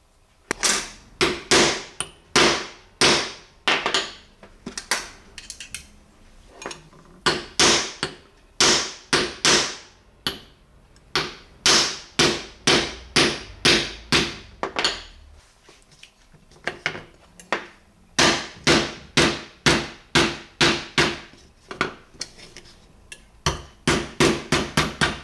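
Steel hair-cutting scissors struck repeatedly with a hammer, sharp metallic bangs in quick irregular bursts with short pauses between groups, loud and close.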